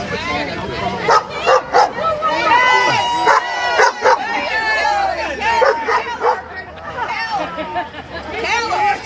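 A dog barks repeatedly with yips and whimpers at a street protest for a new animal shelter, loud and close, amid a babble of chattering voices.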